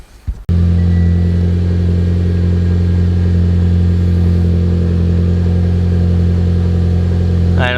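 Mitsubishi Evo X with a newly fitted flex-fuel kit fires up abruptly after brief handling noise, then holds a loud, steady, deep idle drone close by, with no talking.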